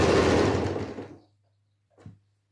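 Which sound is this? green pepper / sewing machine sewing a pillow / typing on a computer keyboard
sewing machine sewing a pillow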